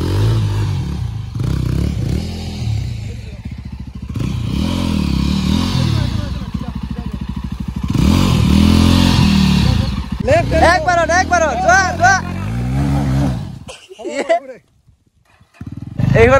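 A Triumph Tiger 800 adventure motorcycle riding a muddy off-road trail, its engine droning and revving loudly up and down with clattering, then briefly cutting out near the end, while people talk over it.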